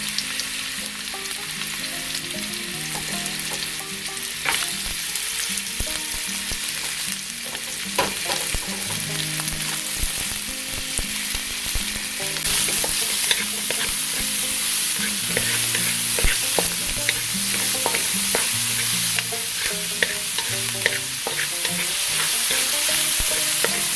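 Beef tendon chunks sizzle and fry in a pan while being stirred, a steady loud crackle with repeated scraping and clinks of the utensil throughout, no voices.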